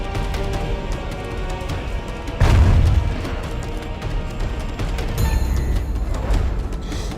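Siege weapons firing during a castle siege in the strategy game Europa Barbarorum II, with one heavy boom standing out over a steady battle din and distant clatter.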